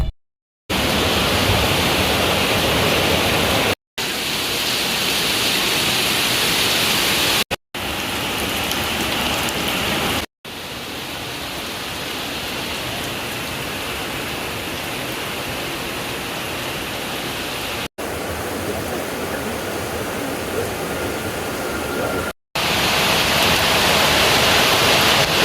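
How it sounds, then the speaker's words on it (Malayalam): Heavy afternoon rain pours down in a dense, steady roar, loud and close throughout, with no voices and only brief breaks between segments. "അങ്ങനെ ഉച്ചയൊക്കെ കഴിഞ്ഞപ്പോൾ നല്ല മഴ."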